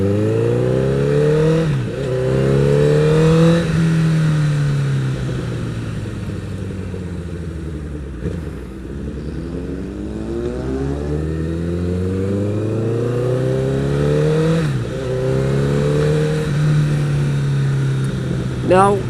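Honda CBR1000RR Fireblade motorcycle on the road, the engine note repeatedly climbing through the revs and dropping at gear changes in long sweeping rises, loud and steady from the rider's position, with wind rush and a voice talking over it.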